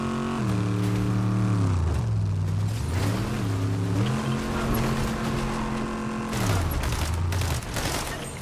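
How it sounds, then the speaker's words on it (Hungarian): A car engine in Fortnite drones steadily throughout, its pitch rising and dipping as the vehicle speeds up and shifts, loud and close with no talk over it. "Azt nézzétek, milyen autó."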